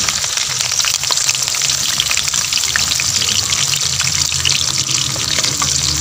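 Onions fry in hot ghee in a pan, giving a dense, continuous crackling sizzle that stays loud and even throughout, with no voices.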